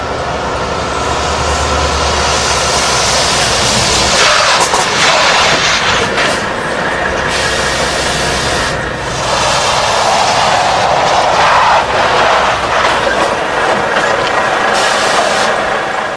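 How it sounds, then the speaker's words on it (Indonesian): A truck loaded with chili peppers speeds and weaves through dense city traffic as an audio drama effect. A loud, continuous heavy engine roar rumbles throughout, with brief surges and dips in intensity and no talking. "Sebuah truk bermuatan cabai melaju cepat dan zigzag di tengah-tengah kepadatan kendaraan lain."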